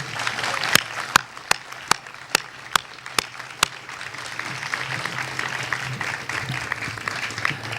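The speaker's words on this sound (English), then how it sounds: "Everyone, please join me in a round of applause for our warrior logisticians." A military battalion ceremony audience applauding its warrior logisticians: a few sharp, evenly spaced claps ring out first, then settle into a softer spread of clapping from the crowd.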